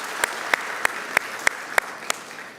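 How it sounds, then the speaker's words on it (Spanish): Church congregation at a sermon clapping in a slow, steady rhythm, about eight evenly spaced claps over a soft background murmur, moderately loud and fairly close. "Dale ese fuerte aplauso a Dios."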